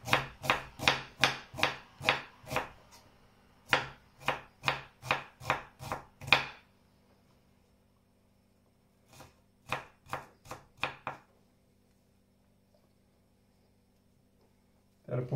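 Close, crisp knife strokes chop red onion on a cutting board in an even, rapid rhythm. Two bursts are separated by a quiet gap, and a final cut lands at the end.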